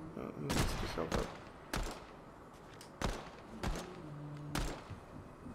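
Sniper rifle fire in Fortnite: several sharp, loud cracks spaced about a second apart, each with a short ringing tail, over continuous game background noise.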